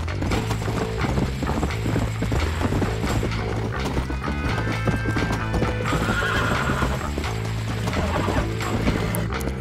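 Rapid hoofbeats clatter in a galloping rhythm, punctuated by a horse's neigh, with mechanical clicking and game-like effects layered over them, from the video game Red Dead Redemption.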